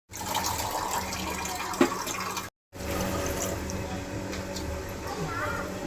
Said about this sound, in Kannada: ನೀರು ಹಾಕಬೇಕು. ಇವಾಗ 2 ಗ್ಲಾಸ್ ನೀರು,